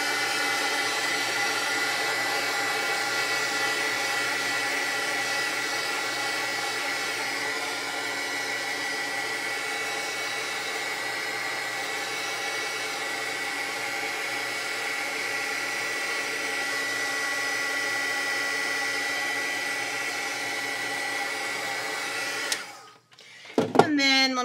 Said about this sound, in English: I hit that with a little bit of heat to move that extra ink off.